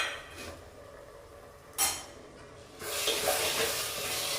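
Spices such as garam masala, chicken masala, pepper powder and cumin sautéing in a pan for egg gravy give a steady sizzle. A brief scrape comes partway through, then the frying grows louder and fuller, with no talking.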